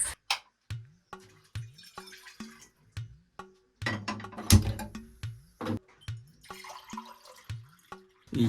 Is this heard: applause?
no